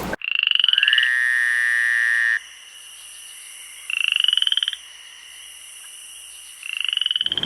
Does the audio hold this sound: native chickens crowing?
no